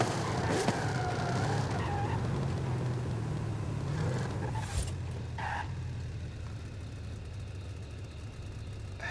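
A car in the racing game Forza Horizon 5 drives with a steady engine drone and a long tire skid, with a couple of sharp squeals and thumps standing out partway through.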